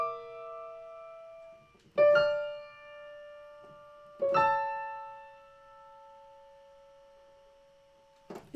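Violins of a string orchestra playing Arvo Pärt's Fratres, sustained tones with sharp percussive accents struck about every two seconds, each ringing out and fading into quiet.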